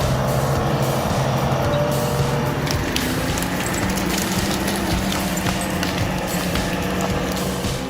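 Heavy log trailer truck with strong cables hauling freshly felled trunks, a loud continuous diesel rumble with shifting engine tones and scattered clanks over a steady, close drone.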